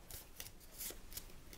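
A deck of cards being shuffled during a solo tabletop card game, giving a few quick riffling bursts of papery rustle that sound close, with no talking.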